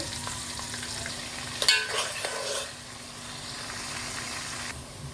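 Onions and whole garam masala spices, including star anise, cardamom and cloves, fry in oil in a pan, a steady sizzling hiss with a burst of stirring clatter midway, then settling back to an even fry.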